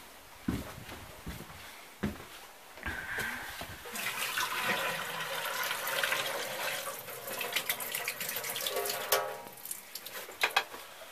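Water dumped out of a tea kettle while closing up a deer camp in Upper Michigan, a few knocks and clanks, then a long splashing pour that gurgles and trails off.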